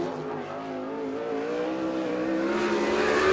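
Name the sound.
sprint car race engine taking the green flag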